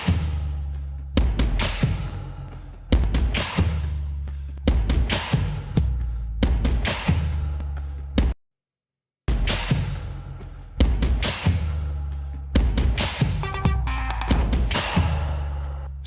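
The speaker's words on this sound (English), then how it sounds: "I just recorded like tins, food containers. I shook like a big rice container that I have here at home." Homemade percussion recorded from tins, food containers and a shaken rice container plays as a steady pattern of sharp booming hits with short decays, about ten strikes, with a brief gap of silence midway.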